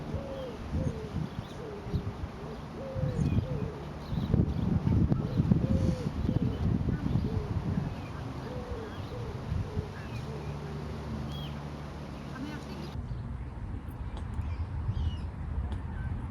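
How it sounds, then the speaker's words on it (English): Small birds sing and call continuously behind two people outdoors at Chichester Cathedral, a steady chorus of chirps under a low background rumble, with one cooing call standing out. "think these little birds behind us have joined a choir"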